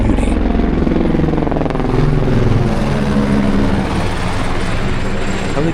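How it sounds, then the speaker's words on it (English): A continuous rotor drone of rescue helicopters echoing through Himalayan valleys on the Everest Base Camp trek thrums steadily throughout, a broad rumbling hum that feels distant and diffuse. "Helicopters echoed in the distance, rescue missions in motion"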